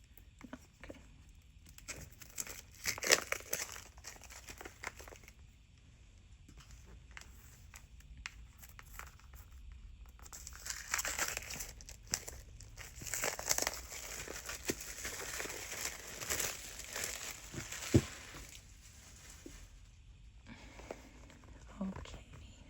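A tarot deck box being opened, with quiet intermittent crinkling and rustling of packaging, occasional taps and scrapes, and soft handling noises.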